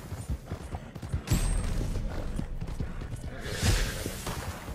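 Horse galloping during an online multiplayer race in Red Dead Redemption 2, rapid rhythmic hoofbeats thudding close by amid game ambience, with a couple of louder hits mixed in.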